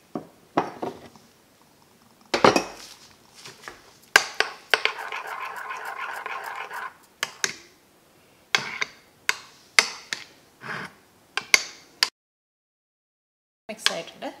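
Rice-based appam batter with onion masala being mixed in a bowl: repeated sharp clicking taps and scrapes of a utensil against the bowl, with a steadier stretch of mixing noise in the middle and a few quiet pauses.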